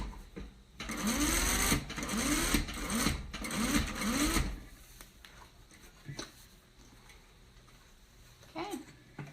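A sewing machine stitches pocket fabric in a steady, loud run of about four seconds, then stops, leaving quiet handling noises and faint room sound afterward.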